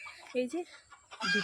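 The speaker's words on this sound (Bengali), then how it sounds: "মোরগ ডাকছে" A rooster crows on an early, chilly morning, two short harmonic calls and then a longer one, close by and mixed with a person talking.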